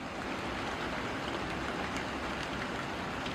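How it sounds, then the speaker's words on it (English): Soft, steady patter of light rain outdoors, a constant wash of gentle noise with no voices. "it's just still kind of raining lightly out here"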